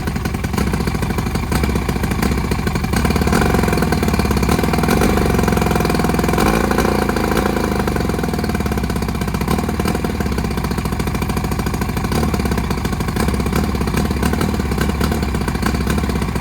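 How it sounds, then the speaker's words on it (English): A 1959 or 1960 Evinrude 10 hp outboard motor running with an ignition misfire, a loud continuous close engine drone with an uneven clattering beat throughout, no talk. "it may be a 60 Evinrude 10 horsepower motor, and it's got a miss"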